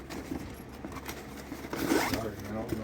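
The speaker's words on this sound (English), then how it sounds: "I messed this zipper thing up." Zipper on a large Ryobi One Plus tool bag being worked open, a steady run of ripping, scraping zip sounds through the whole stretch with a louder pull near the middle and brief talk alongside.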